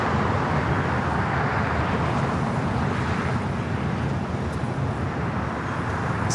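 A Delta Airbus A350 airliner at LAX produces a steady, loud broadband jet roar with no breaks, filling the whole stretch.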